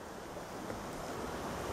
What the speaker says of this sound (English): the river is flowing really fast right through here